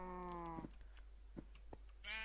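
Minecraft video game sheep bleating, a clear wavering bleat at the start and another near the end, with faint soft clicks between, quiet and otherwise still.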